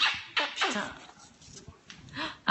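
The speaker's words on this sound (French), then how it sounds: "Ça, c'est un chien très triste." A sad dog whimpers and yips softly in short, whiny bursts, close by, while a person talks over it.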